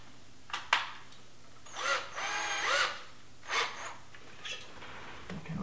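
A power drill drives screws into the wooden corner of a dog gate, giving a few short, faint whirring bursts close by, separated by quiet pauses and light clicks of handling.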